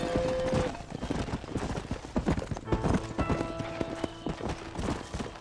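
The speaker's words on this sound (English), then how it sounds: "Hit your horse and wait for me by the stable." Horse hooves clip-clop steadily in Red Dead Redemption as the animal walks and trots on a ranch near the stable. The hooves sound close, with a short whinny, ranch sounds and a bit of background music.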